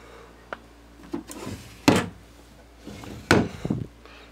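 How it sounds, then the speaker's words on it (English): Two dresser drawers slide and bang shut, several wooden knocks and scrapes in bursts, close and fairly loud, with no talk. "Then if we shut those two drawers"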